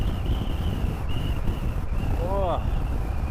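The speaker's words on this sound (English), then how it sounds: "Open up the visor and get a bit of wind in my face." Wind rushes through an open helmet visor while riding on a long road tour, a steady, loud, close buffeting roar that fills the whole stretch, with a faint whine riding on top.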